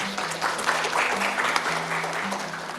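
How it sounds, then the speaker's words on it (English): A conference audience gives a round of applause for manufacturing panel discussion panelists, a thick, even wash of clapping with a low steady hum underneath. "Can we have a round of applause for the panelists once again?"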